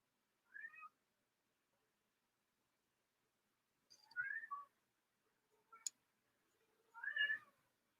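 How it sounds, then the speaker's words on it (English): A pet cat meows at a closed door, several separate calls spaced apart with gaps of silence, fairly close and clear with no talking over them. "you can hear my cat"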